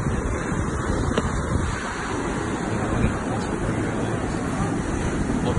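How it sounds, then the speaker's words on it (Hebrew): Heavy surf pounding a harbour breakwater in Israel during rough seas with strong current, a continuous loud roar of crashing water mixed with wind noise on the microphone. "מים מתנפצים על השובר, גלים שם בעוצמה ממש מרבית"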